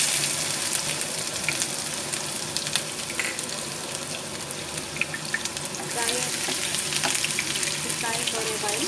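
Chopped onion hits hot oil in a pan and fries with a strong, continuous crackling sizzle, up close. It has watery hissing textures and brief bursts of louder spattering toward the end.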